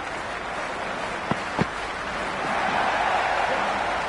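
Crowd noise from a T20 cricket video game match, a steady broad roar of spectators that swells slightly in the second half, with two brief sharp knocks early on and no speech.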